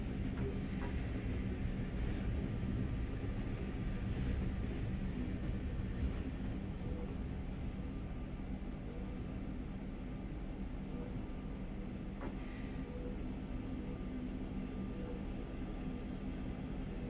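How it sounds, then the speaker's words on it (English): Freight train rolling past in the Ruhr-Sieg Nord route of Train Sim World, a steady, loud low rumble of wagons that fills the whole stretch without letup, with a faint squeal now and then and no voices. "Bit of a freight train."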